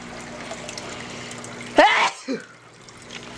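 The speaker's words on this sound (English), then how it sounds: "oh my, I'm gonna sneeze again." A single sharp sneeze bursts out close to the mic, followed by a short breathy exhale, against a quiet room hum.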